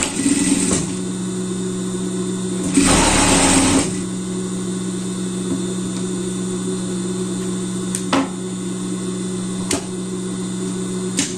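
Sewing machine topstitching a folded-over seam on a summer pet dress, a steady loud mechanical hum running throughout with a brief harsher burst of stitching noise near the start.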